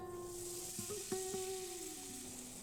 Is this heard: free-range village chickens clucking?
no